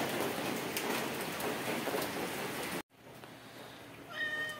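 Steady rain falls on a rainy morning, a dense, even hiss broken by a sudden cut, then lighter patter returns with a cat meowing near the end.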